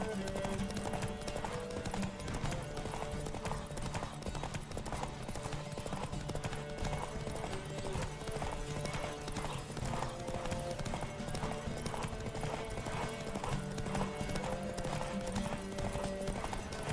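Steady rhythmic clip-clop of galloping horse hooves in the video game The Witcher 3: Wild Hunt, continuous and close, over a constant background of game music and ambience.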